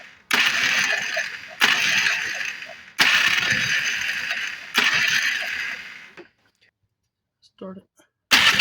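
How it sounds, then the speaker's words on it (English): A poorly sounding starter on a 1994 Polaris 250 Trail Boss ATV cranks in four loud, grinding bursts with short pauses between them, up close, followed by quiet and a brief voice before cranking resumes. "Starter sounds terrible."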